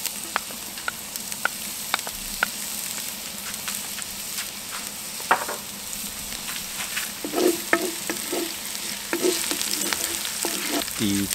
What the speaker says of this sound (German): Da drin braten wir dann unsere Peperoni an.